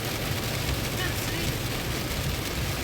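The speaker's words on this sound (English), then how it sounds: "I don't know if you guys can hear me over the rain." Heavy rain during a strong thunderstorm in Leitchfield, Kentucky, drumming steadily on a car while driving through flooding, a dense unbroken roar that fills the whole clip.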